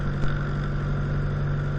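A Jabiru J120 light aircraft engine idles while warming up, a steady low droning hum with an even, continuous tone heard close and unbroken, with no talk over it.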